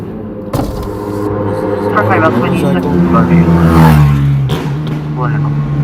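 A loud motorcycle roars past at night on a Los Angeles street, its engine note rising and falling as it goes by, close and prominent over a crackly radio voice.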